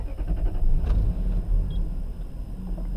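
A 1998 Toyota Celsior engine cranks briefly and catches close by, then settles into a low, steady idle rumble.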